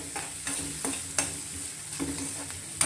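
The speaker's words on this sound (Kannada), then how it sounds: "ಇದೆಲ್ಲ ಚೆನ್ನಾಗಿ ಫ್ರೈ ಮಾಡ್ಕೋಬೇಕು" Brinjal gojju masala sizzling steadily in a pan while being stirred, with repeated scraping strokes of the spoon every half second or so, close and fairly loud, no voices.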